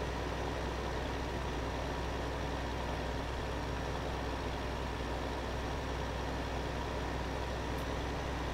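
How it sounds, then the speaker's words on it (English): A tractor engine in a farming simulation game runs with a steady, even low drone, constant and unbroken, with no talking over it. "That's a little faster, this tractor."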